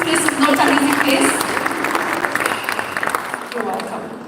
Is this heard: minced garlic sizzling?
no